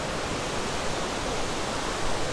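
Rushing water pours steadily over rocks at Thi Lo Su waterfall in Chiang Mai, a dense, continuous roar filling the air without pause or voices.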